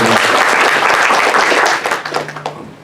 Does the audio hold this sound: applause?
yes